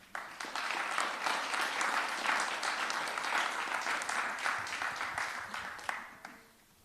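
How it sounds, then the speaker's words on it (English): Audience applause at a business design competition awards event, a steady wash of many hands clapping for several seconds before fading out at the end. "a big round of applause for all of our 2023 competitors"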